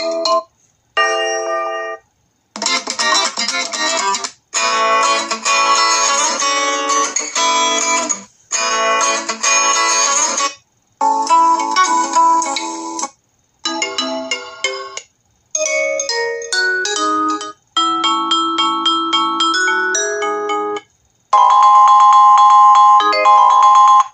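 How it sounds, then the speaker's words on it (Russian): Ringtone for the first SIM card on a Lenovo K12 Pro phone plays loud and alone: a series of bright, electronic melodic ringtone snippets in bursts separated by short silences. "Рингтон на первую симку."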